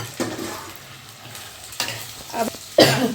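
Green chillies and sliced onions being sautéed in a pan, with a few short bursts of stirring and scraping over a quiet sizzle, the loudest scrape near the end.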